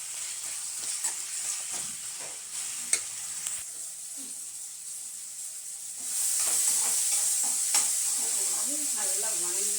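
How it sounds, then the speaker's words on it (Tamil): Onion, tomato and ginger garlic paste sauté together in a hot pan for a fish curry, with a steady sizzle and hiss that grows louder about halfway through, plus scrapes and stirs of a spoon close by. "போட்டு எல்லாத்தையும் ஒன்றா வணக்கி விட்டோம்னா பச்சை வாசனை போகிற அளவுக்கு நல்லா வணக்கி விட்டுறலாம்"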